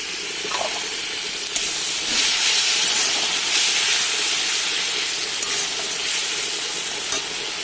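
Masala and poppy seed paste sizzles loudly in hot oil as a little water is added, while eggs are cooked at home: a steady, close, hissing fry with a few faint clinks and no talking.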